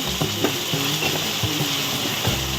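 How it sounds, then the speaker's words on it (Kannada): Tomato and onion frying with salt in a pan give a steady close sizzle, with soft stirring scrapes recurring every half second or so. "ಟೊಮೊಟೊ ಎಲ್ಲ ಹಸಿ ವಾಸನೆ ಹೋಗೋವರೆಗೂ ಚೆನ್ನಾಗಿ ಫ್ರೈ ಮಾಡ್ಕೊಂಡು"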